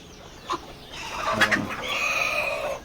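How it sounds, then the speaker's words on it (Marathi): Village desi hens clucking and murmuring nearby on a poultry farm, with a couple of short louder calls over a steady background of farmyard noise. "किती कोंबड्या बसल्यात बघा"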